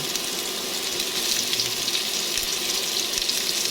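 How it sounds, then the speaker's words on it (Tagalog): Chopped onions sizzle in hot oil in a pan for arroz caldo, a loud, continuous crackling fry with no pauses and no voices. "Lagay na natin yung sibuyas."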